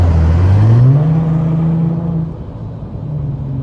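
A 2016 Hyundai Genesis Coupe with the 3.8 engine accelerates on a highway, its loud, steady exhaust drone rising in pitch, then easing off to a lower whir under continuous road noise.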